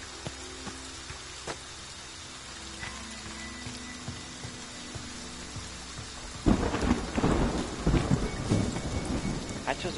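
Rain and rolling thunder in the Friday the 13th video game, a steady patter with faint rumbles that swells suddenly into a loud, heavy downpour with thunder partway through.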